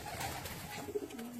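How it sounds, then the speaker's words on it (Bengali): Dobaj pigeons cooing close by, soft low throaty coos repeating over a brief stretch against a quiet background. "দুটো একটা বেসিক্যালি দোবাজ পায়রা"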